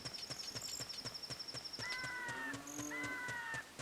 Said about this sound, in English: I just heard a cow.